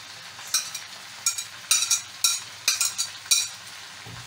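Singapore-style rice with elbow macaroni and spring onions stir-fried in a pan, heard as a series of sharp, rhythmic scraping and sizzling strokes, about one every half second, over a quiet background.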